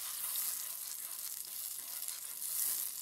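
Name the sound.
garlic chutney sizzling while cooking in a pan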